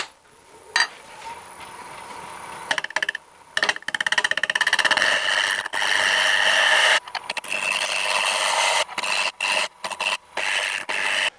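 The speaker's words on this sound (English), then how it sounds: "I'm going to switch over to my dedicated shear scraper now to finish cleaning this up" A steady, rasping scrape of a shear scraper against a wooden bowl, continuous and close, breaking into shorter strokes with brief pauses toward the end.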